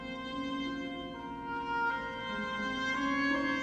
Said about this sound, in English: we took a triangle beater and literally had the percussionist rake it across